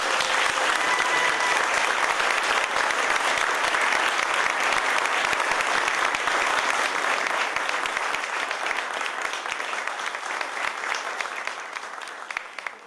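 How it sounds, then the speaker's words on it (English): Round of applause for the New York Governor at an official announcement, a large room of people clapping loudly and steadily, tapering off over the final seconds. "A round of applause for Governor."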